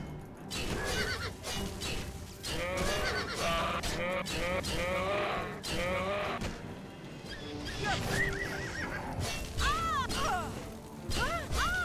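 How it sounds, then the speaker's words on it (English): A horse in the video game Oblivion neighs and whinnies several times, with clip-clop hoof steps and a few clattering thuds running underneath the calls. "Leave my horse alone."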